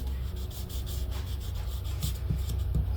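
Guitar frets are polished with 6000 grit abrasive, a steady close rubbing and scrubbing sound that continues for a few seconds without talk.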